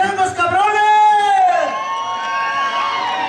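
Crowd at the San Lorenzo fiesta in Victoria lets out a loud, sustained collective yell and cheer on cue, voices swelling together for about a second and a half before settling into a lower, continuing roar.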